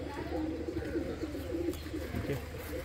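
Young teddy pigeons cooing softly in a low, continuous burbling murmur, close by and quiet, while someone talks over them.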